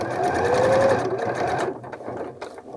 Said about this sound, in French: on va refaire sur la même couture avec un nœud au départ